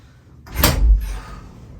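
Hairspray hisses from an aerosol can onto hair in one short, close burst lasting about half a second, followed by a fainter trailing spray.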